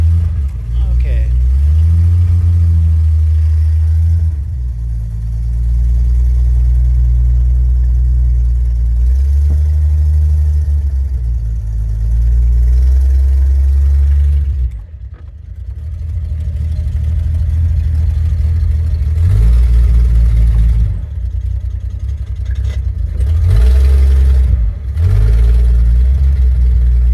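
A Hudson Super Wasp engine idles after a cold start with a deep, loud, steady rumble close by, briefly dipping and picking back up a few times as the idle settles over nearly half a minute.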